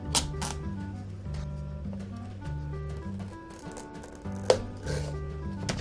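A knife works through a tough acorn squash on a cutting board, giving close, uneven crunching and chopping thuds with a few sharp cracks over a low steady hum and no speech.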